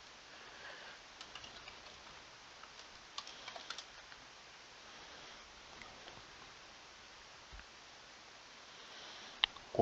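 Light, rapid clicking of a computer keyboard while Java code is typed, in irregular bursts of keystrokes, faint and steady against quiet background noise.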